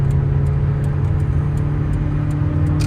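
A 1987 Toyota MR2 engine holding steady at about 3,800 RPM in fourth gear at highway speed, a continuous loud droning hum with road rumble, heard close from inside the cabin without talk.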